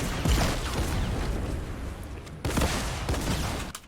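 Rapid drum gun fire in a Fortnite match, a dense continuous burst of gunshots that runs loud throughout, with a short break before a second burst.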